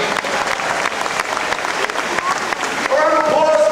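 A crowd claps for two volunteers at a live show at Disney in Florida. Brisk applause mixes with cheers and chatter, and a voice speaks over it toward the end.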